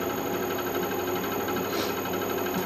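Machine tool running at 726 RPM while cutting a new part for a printing press, a steady mechanical hum with faint rhythmic rattling, close and continuous without talk.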